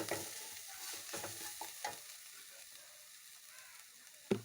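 Onions and spices with salt and turmeric sauté in a pan for amaranth-leaf thoran, a soft close sizzle with several spatula scrapes early on, then quieter frying and a single sharp knock at the end.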